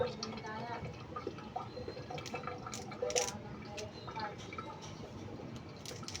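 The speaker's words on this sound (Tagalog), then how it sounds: "Hugas na to, so siguro hugasan natin ulit para in case." Food being washed in water at a kitchen sink while cooking: faint, close splashing, trickling and dripping with small clatters, and a person talking quietly over it.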